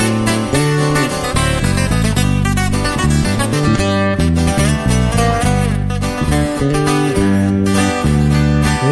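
Requinto guitars playing a corrido in a live performance, bright plucked runs over steady bass and rhythm guitar, loud and continuous throughout with no voices.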